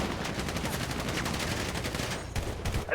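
Dense, continuous gunfire fills a GTA roleplay shootout between factions, rapid overlapping shots rattling loudly throughout with no clear gaps.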